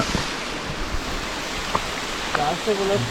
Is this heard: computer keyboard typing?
no